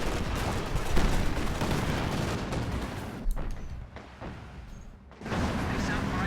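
Rocket artillery barrage in Company of Heroes 2, a rumbling wash of impacts and blasts fading in and out, dipping briefly before surging again, with a commentator talking over it.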